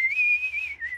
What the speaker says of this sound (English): Oh, I'm the best whistler in the whole sky.